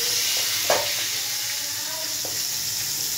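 Fish fries in hot oil in a pan with a continuous, even sizzling hiss, a couple of faint clinks and pops rising briefly above it and no talking.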